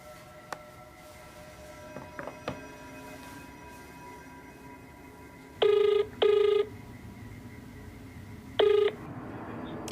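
A telephone rings on the line during a call placed to someone in Angeles, north of Manila, with three loud electronic ring bursts, the first two close together and the third after a gap, over faint line hiss and a few clicks.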